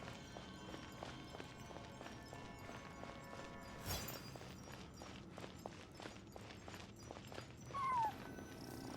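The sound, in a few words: cat crying in Genshin Impact video game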